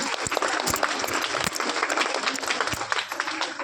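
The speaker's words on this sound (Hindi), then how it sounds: "बच्चों का उत्साह तालियों से बढ़ाएं" Dense audience applause for children performing on stage fills the space continuously, a crowd clapping steadily and loudly without pause.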